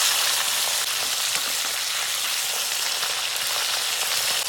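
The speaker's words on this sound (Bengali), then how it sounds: "মাছগুলো একটা ভাজা হয়ে গেছে, এরকম নিয়ে আরেকটা ভেজে নেবো।" Oil sizzles and spatters continuously as bhola fish fries, with a bright, crackling hiss, steady and close, with no voices.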